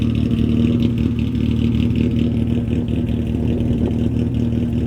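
After a full chassis swap, a car engine with worn piston rings runs rough and loud up close, its steady mechanical drone rising and falling as it revs, without voices.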